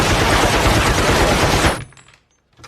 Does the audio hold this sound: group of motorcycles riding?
no